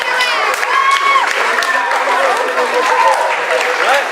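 An audience at a chapel service claps warmly, a dense and steady wash of applause with children's voices and chatter mixed in throughout.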